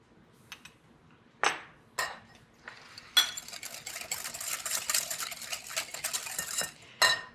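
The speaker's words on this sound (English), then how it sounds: "breaking them with a wire whisk" A wire whisk beats egg yolks with salt and granulated sugar in a bowl. A few separate taps and clinks come first, then a few seconds of fast, steady, metallic rattling against the bowl, close and clear.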